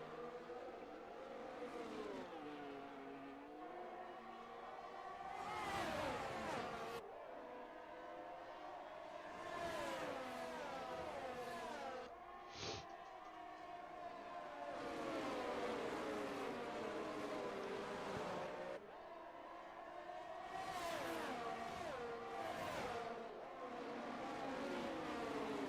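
Race cars in the F1 22 video game roar around the Imola circuit with a steady engine drone, rising and falling as cars accelerate and sweep past through the chicane, loud and continuous with no talk.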